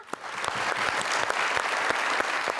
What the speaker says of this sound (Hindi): कशफ के लिए तालियां